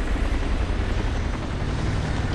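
A C-130 transport aircraft in a military video game, its turboprop engines droning loudly and continuously with a deep rumbling hum and no pauses.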